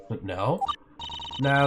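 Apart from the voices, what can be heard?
mobile phone ringing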